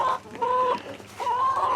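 Backyard chickens in a coop cluck in two close, loud bursts of drawn-out, nasal calls separated by a brief pause.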